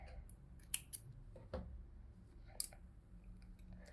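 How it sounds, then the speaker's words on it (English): Scissors snip through crochet yarn in a few sharp, quiet cuts, irregularly spaced in an otherwise hushed space with no speech. "you're going to cut your yarn."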